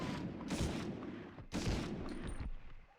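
Bursts of machine-gun fire in the World War II shooter Medal of Honor, two dense volleys of rapid shots separated by a brief pause, loud and close with no voices.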